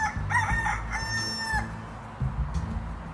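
A rooster crows loudly nearby, one drawn-out cock-a-doodle-doo, followed by a few softer clucks over a low background hum.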